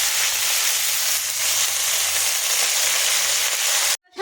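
Washed red spinach drops into a hot pan with green chillies and fries with a loud, close, crackling sizzle that holds steady for about four seconds, then cuts off abruptly into a brief dull bump.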